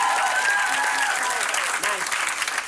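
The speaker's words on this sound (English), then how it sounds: "Clap if you're here to support somebody who's in a show tonight." An audience claps at a DC Improv comedy night, steady dense applause filling the room with some cheering voices mixed in, fading slightly toward the end.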